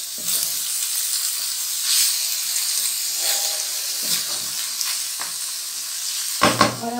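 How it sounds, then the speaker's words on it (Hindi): Beans frying for keema, a steady bright sizzle close by with occasional soft stirring scrapes and a sharper clatter near the end. "बीन्स डालकर बस 1-2 मिनट हमने इसको भूनना है।"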